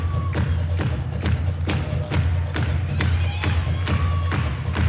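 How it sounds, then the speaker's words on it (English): At a college gymnastics meet in an arena, the home crowd cheers and yells while loud rhythmic thumps land every half second or so. A low steady hum sits under the noise. "You can hear the crowd in the background getting into it."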